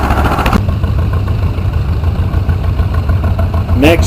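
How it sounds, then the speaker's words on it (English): A 1945 homemade tractor at a hometown show parade idles with a steady low engine rumble and mechanical clatter, loud and close. A brief voice is heard at the start, and a short rising squeal comes near the end. "Next up, you have a 1945 homemade tractor owned by Fraser Daly"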